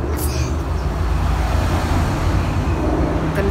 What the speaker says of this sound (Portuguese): Vai ficar um pouquinho de barulho nos carros aí.